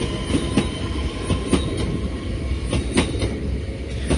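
An Impuls 2 electric multiple unit rolls past a viaduct construction site in Warsaw, its wheels clacking rhythmically over rail joints in a loud, steady passing roar with no voices.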